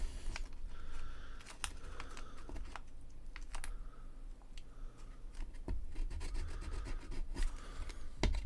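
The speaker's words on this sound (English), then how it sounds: "Run my fingernail down and smooth it into place." A fingernail runs along masking tape to smooth it onto a model Krieg Leman Russ tank, producing soft, close rubbing strokes mixed with small clicks and taps at an irregular pace, with no speech.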